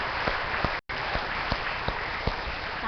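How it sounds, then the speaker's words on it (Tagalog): Applause from a church audience at a religious gathering, dense steady clapping with a few sharper claps standing out and a brief cutoff near the start before it resumes. "Sige nga po, palakpak, palakpak, palakpak."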